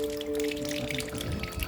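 Water draining out of a washing machine drum as a manual drain lever is held open, a steady trickling and dripping flow with a faint steady hum underneath.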